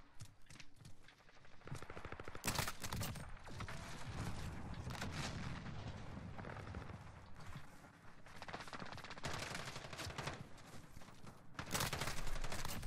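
Rapid, sustained gunfire from a first-person shooter game, with akimbo pistols and an M13 rifle firing in dense bursts and volleys that stay loud and close throughout, with sharp louder blasts near the start and end.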